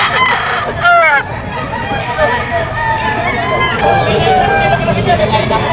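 A rooster crows loudly close by, a long drawn-out call, with other fowl clucking and a murmur of people in the background at a pet market.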